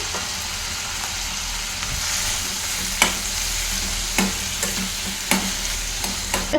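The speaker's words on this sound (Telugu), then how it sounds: "ఇవి కూడా ఈ ఆయిల్లో వేసేసుకొని ఈ రెండింటిని కొంచెం సేపు ఫ్రై చేసేసుకోవాలి" Tomatoes frying in oil for an aloo cauliflower bajji curry, a steady close sizzle with occasional sharp stirring scrapes and clicks of a utensil against the pan, with no talking.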